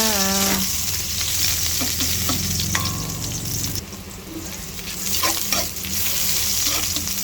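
Garlic and onion sizzle loudly in hot oil as they are sautéed for a chayote dish, with a spatula clattering and scraping the pan throughout and a brief birdlike coo early on.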